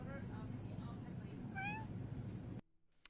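A man mimics a kitten's meow out loud in public, producing a short, high, rising cry over a busy background of chatter and crowd noise, after which the scene drops suddenly to near quiet.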